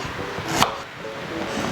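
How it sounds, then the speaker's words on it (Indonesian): Fresh ginger sliced with a knife while making honey-glazed charsiu chicken, two crisp blade strikes against a cutting board, close and separated by a short pause. "Nah, ini aku kalau nge-slice jahe itu memutuskan si serat-seratnya."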